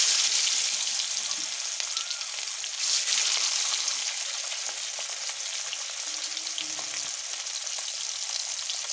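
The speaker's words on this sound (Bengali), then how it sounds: "এবার আমি মাছ দুটোকে একে একে দিয়ে দেবো তেলের ভিতরে।" Two rohu fish fry in hot mustard oil, giving a loud, continuous crackling sizzle close by that stays dense and steady, with faint stirring clinks and no talk.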